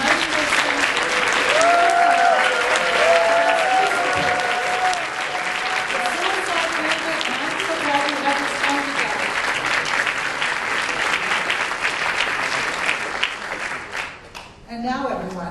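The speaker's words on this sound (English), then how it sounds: "let's give a round of applause for the United" Audience at a book awards ceremony giving a long, steady round of applause, dense clapping throughout that thins out toward the end.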